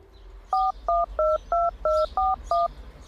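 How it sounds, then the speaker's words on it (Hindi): A number dialed on a small mobile phone by an old neighbor: seven crisp, evenly spaced keypad tones in quick succession, loud and close, with no talk. "वो बूढ़ा पड़ोसी अपना छोटा सा फोन निकाल के आंखें छोटी करके किसी का नंबर"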